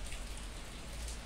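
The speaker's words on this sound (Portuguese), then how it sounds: "Está chovendo. Está chovendo." Steady rain falls and patters on surfaces on a rainy Saturday, a continuous soft hiss with scattered drops and no voices.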